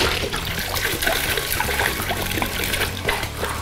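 Triple sec poured from a dented bottle into a Christmas jingle juice punch, a continuous close trickle and splash of liquid lasting several seconds.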